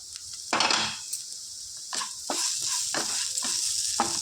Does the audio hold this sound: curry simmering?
yes